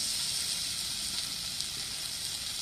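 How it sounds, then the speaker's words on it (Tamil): Fish sizzles as it fries in a hot kadai, a soft, steady high hiss of oil that keeps going without letup, quiet and close. "நம்ம இப்போ வந்து ஃபிஷ் வைக்க போகிறோம்."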